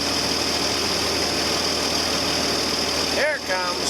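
A John Deere 4320 tractor engine idles warm with a steady, loud mechanical rumble and whine, a voice briefly breaking in near the end.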